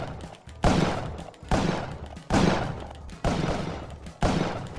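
Gunfire in the video game Spelunky as shopkeepers are shot, five sharp blasts at a steady rhythm about a second apart, each fading into a short rumbling tail, fairly loud and with no talk over them.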